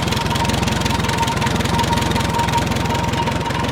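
A 1938 Minneapolis Moline Z tractor with electronic ignition idles close by, its engine chugging in a steady, rapid, even rhythm without a miss and no voices over it.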